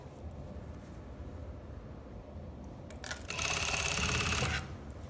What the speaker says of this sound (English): Now I'm sewing the other side from the center front towards the center